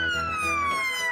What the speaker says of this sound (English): This is an ambulance car.